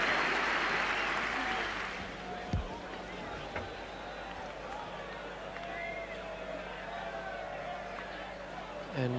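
A Leeds cricket crowd applauds a batsman during the 1985 Ashes. The clapping is dense and loud at first, then quickly thins into a distant patter and crowd murmur for the rest of the clip.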